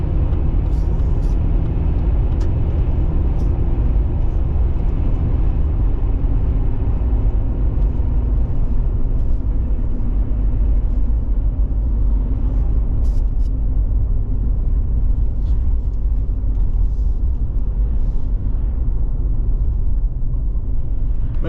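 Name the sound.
truck driving, making a U-turn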